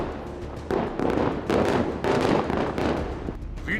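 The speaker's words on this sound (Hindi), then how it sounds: "इस वीडियो में एक साथ कई धमाके हो रहे हैं।" Many explosions at night in northern Gaza, a rapid, overlapping barrage of booms and cracks, loud and continuous with bursts following one another without pause.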